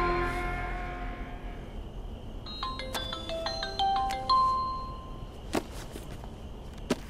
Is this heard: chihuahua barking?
no